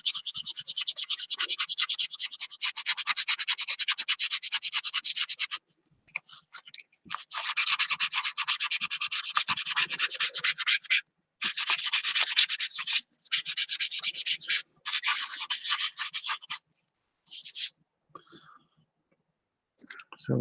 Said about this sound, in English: See it's scraping along these upper parts,